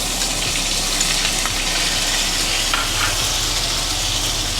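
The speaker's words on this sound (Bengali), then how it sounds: "মশলাগুলো এইভাবে তেলের ভিতর ভালো করে কষে নেব" Ground turmeric, chili and ginger paste frying in hot oil, a loud, dense, unbroken sizzle close by for a few seconds with no talking.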